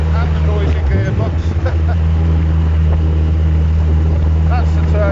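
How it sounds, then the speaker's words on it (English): Steady drone of a Kawasaki Z1000 motorcycle with a noisy gearbox, heard up close while riding, mixed with wind buffeting and a spoken voice over it. "And the noisy gearbox."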